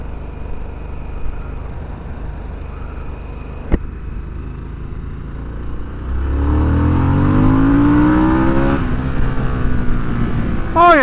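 A 2022 Harley-Davidson Sportster S cruiser motorcycle rumbles at a steady low note, then revs hard into a loud, rising acceleration whose pitch climbs for several seconds before easing off. A sharp knock sounds early on.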